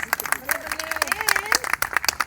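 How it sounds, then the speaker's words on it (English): An audience applauds performers taking the stage at a Baisakhi program at the Indian Ambassador's residence, a dense patter of claps with crowd noise, under a voice speaking over it. "Please welcome them on stage with a big round of applause"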